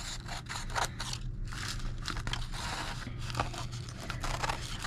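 Scissors snip and crinkle through paper while trimming an art project, a run of quiet close cuts and rustles over a low steady hum.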